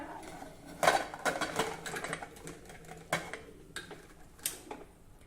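A lid clatters onto a pot of khichdi boiling with salt and hot water, several sharp metallic clinks and knocks standing out from a quiet kitchen background, with no one speaking.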